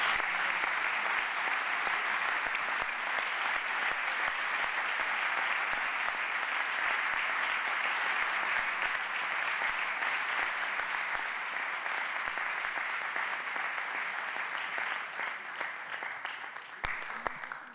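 Sustained, loud ovation from an audience filling a parliamentary hall during a bullfighting awards ceremony, dense and steady for the full span before thinning slightly at the end, with no talk over it.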